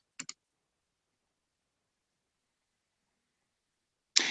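A computer mouse gives two quick, crisp clicks in succession near the start, followed by a long silence and then a burst of noise at the very end.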